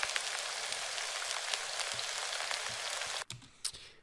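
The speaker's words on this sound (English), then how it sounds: "I'm just kind of starting to mimic the rain EQ curve by taking out some of the lows" Synthesized rain built from an iPhone recording of food frying gives a dense, steady hiss with scattered crackling drops, with the low end removed. It breaks off abruptly near the end, leaving a few faint patters.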